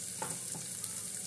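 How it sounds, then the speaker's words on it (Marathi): Onion sizzling in hot oil in a pan for chicken soup, a steady close hiss with a couple of soft stirring scrapes near the start. "हे बघा आता आपण कांदा टाकलेला आहे."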